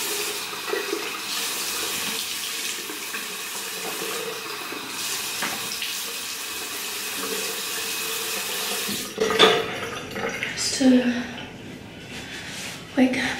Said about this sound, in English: I like to just rinse my face with some nice cold water.